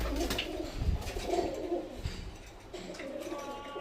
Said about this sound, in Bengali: তো এই সেই পায়রাগুলো